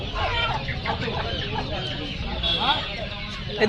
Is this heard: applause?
no